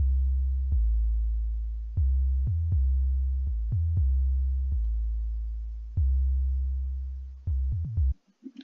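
Homemade 808 bass hits, a deep electronic boom that retriggers about a dozen times in an uneven rhythm, each note decaying slowly with slight pitch and volume movement, loud and alone, with a fast flurry of short hits at the end.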